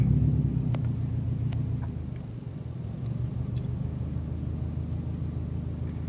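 A 2007 Subaru STI with a manual gearbox idles low and steady as the clutch is let out in reverse, a soft engine rumble that dips slightly then holds even, with no talking.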